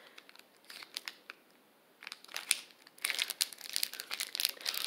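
Crinkly plastic candy wrapper around a banana toffee being unwrapped, with soft scattered crackles at first, then denser, louder crumpling and crinkling bursts close to the microphone.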